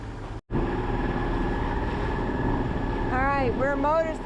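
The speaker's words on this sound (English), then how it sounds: "We're motor sailing because the seas are so rough right now" A sailboat motor sailing through rough seas, a steady low engine drone mixed with wind and water rush, briefly cut out near the start, with a voice speaking toward the end.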